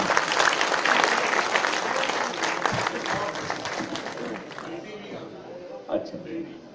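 Applause from the audience at a mushaira poetry gathering, loud and dense at first, then thinning and fading, with voices talking over the clapping.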